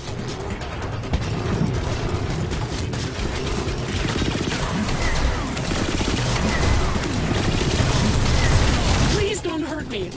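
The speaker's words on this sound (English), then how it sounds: "Observatory's under fire!" Dense, continuous gunfire and booming impacts from a space-combat firefight in the video game Starlink, sustained at high level for about nine seconds under voices, then thinning out at the end.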